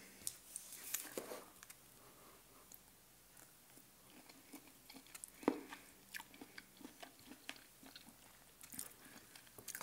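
Someone eats soft shrimp with chopsticks close to the microphone, with quiet wet chewing, small squishes and light clicks in an irregular rhythm and no talking.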